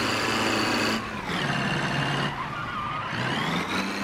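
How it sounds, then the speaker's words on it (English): Engine of the Bruckell Nine car in BeamNG.drive, a loud, continuous harmonic drone that rises and falls in pitch as it revs up several times, heard alone. "the engine sound. Let's hear it."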